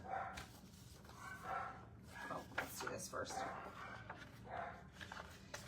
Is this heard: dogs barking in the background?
yes